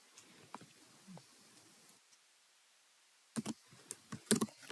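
Keys on a computer keyboard are pressed while a custom number format is entered in Excel: soft, sparse taps at first, then a brisk burst of louder clicks after a short pause.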